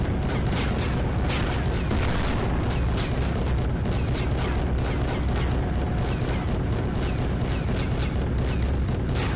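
Tank cannon fire and rolling heavy booms in Garry's Mod, a dense, loud, continuous barrage of repeated blasts and rumbling with no pauses.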